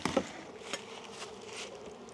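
Honeybees stirred up during a mid-winter hive inspection buzz in a soft, steady hum, with a few brief louder knocks near the start.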